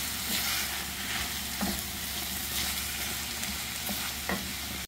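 Chopped onion and tomato fry in a pan with a bay leaf, giving a steady crackling sizzle with occasional scraping stirs of a utensil, close and continuous with no talking.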